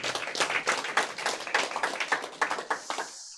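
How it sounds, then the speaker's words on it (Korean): A small audience at a village-leader training lecture claps together, a loose patter of separate hand claps that stays fairly steady for a few seconds before tapering off. "우리가 확인을 하는 박수 한번 쳐볼까요?"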